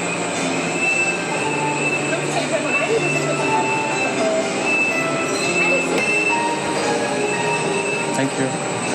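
A train in China rumbling steadily along the rails with a high metallic whine and occasional squeal, constant and close, with faint voices in the background.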